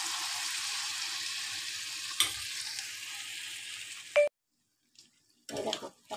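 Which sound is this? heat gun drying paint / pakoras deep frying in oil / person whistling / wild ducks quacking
pakoras deep frying in oil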